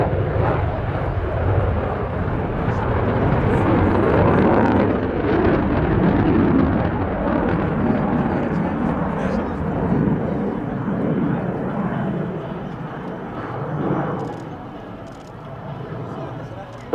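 A Saab AJS37 Viggen jet roars steadily overhead during a flying display at Volkel air show, its rumbling engine swelling and fading while someone talks over the noise.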